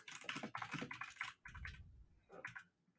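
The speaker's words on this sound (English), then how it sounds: "Why is my keyboard not typing?" Keys clatter on a computer keyboard in quick uneven bursts, close and fairly loud, with short pauses between runs of strokes and no talking.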